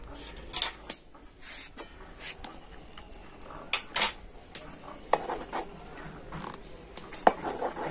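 A metal ladle knocks and scrapes against a bowl while stirring potato chip batter, with irregular clinks and scraping strokes, close and moderately loud, no voices.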